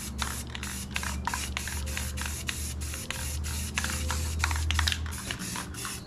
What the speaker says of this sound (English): now I'm going to spray around.